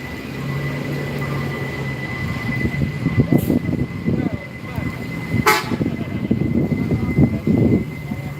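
A Palala 05 bus pulling into a busy bus terminal, a low engine rumble under someone talking, with two short sharp horn toots and general vehicle noise around.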